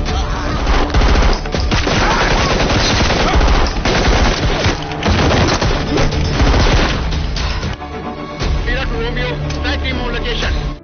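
Dense gunfire exchange from a dramatized reenactment of an NSG commando operation against terrorists, loud bursts of automatic fire and shots layered continuously with a dense soundtrack and voices.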